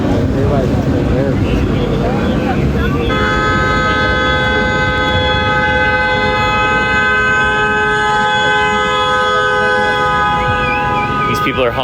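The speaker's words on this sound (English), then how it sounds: "People are honking in solidarity." Car horns honking in solidarity at a street protest in LA County, with a long sustained blaring horn tone over loud, dense crowd and street noise, with voices throughout.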